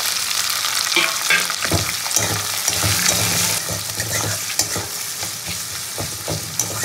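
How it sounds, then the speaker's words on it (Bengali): Chopped onions, two large ones, frying and being stirred in oil with tempered whole spices in a home kitchen, giving a steady loud sizzle with repeated scraping stir strokes throughout. "ফোড়নটা ভালো করে ভেজে এবার পেঁয়াজ কুচিটা দিয়ে দেবো"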